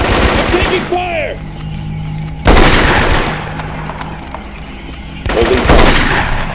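Two loud bursts of rapid gunfire in the jungle shooter Marine Sharpshooter 2: Jungle Warfare, separated by a few seconds, with a brief voice and background battle noise between them.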